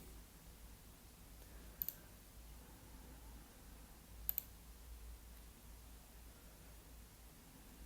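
Two separate pairs of quick, faint computer mouse clicks sound against a quiet background hiss.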